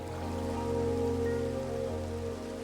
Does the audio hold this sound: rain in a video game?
yes